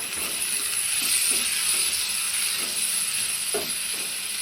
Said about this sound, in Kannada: ಈಗ ನಾನು ಇದಕ್ಕೇ ಟೊಮೆಟೊ ಸೇರಿಸ್ತಾಯಿದ್ದೀನಿ.